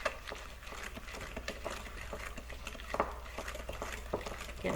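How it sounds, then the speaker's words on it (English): A whisk stirs an egg into M&M sugar cookie dough in a bowl, giving a steady run of soft, rhythmic scraping and clinking strokes close by with no talking. "we're gonna do a little bit of stirring like this"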